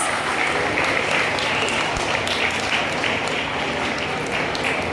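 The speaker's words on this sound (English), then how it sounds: "Let's give them a big round of applause." Audience clapping at a school annual day celebration, a steady, even spread of applause at moderate volume lasting several seconds, heard alone without talk.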